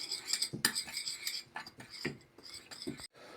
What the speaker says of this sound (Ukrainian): І всю нашу суміш ми ретельно перемішуємо